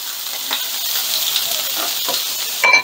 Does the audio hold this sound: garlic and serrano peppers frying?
yes